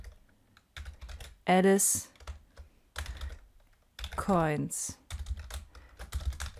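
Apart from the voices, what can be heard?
typing code on a computer keyboard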